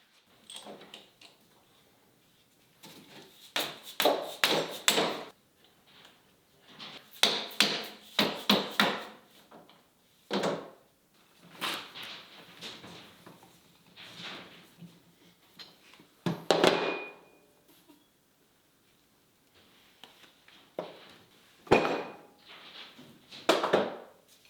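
Taking apart a rusty, gummed-up 3-jaw lathe chuck: irregular clusters of metallic clanks, knocks and scraping taps separated by short quiet gaps, close and fairly loud, with no talk.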